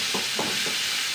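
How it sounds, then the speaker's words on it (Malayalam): Onion and green chillies sauté in a pan after mustard seeds crackle, a continuous hiss broken by several rhythmic stirring scrapes, close and alone. "ഉള്ളിയും പച്ചമുളക് ഇട്ട് വഴറ്റുക."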